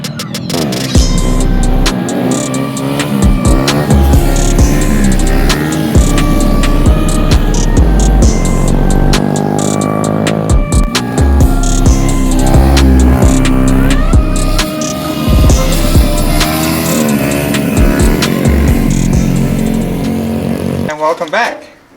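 A pack of Honda Grom motorcycles roars past, loud and close, with engine buzz rising and falling as the small bikes go by, heavy wind rumble throughout and voices talking over it.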